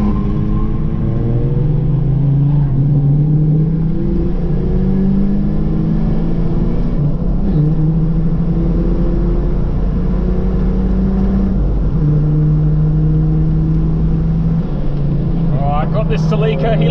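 A Ford FG XR6 circles a race track during a twilight track day, its engine revving and rising in pitch in repeated sweeps, loud and close, with engine noise throughout.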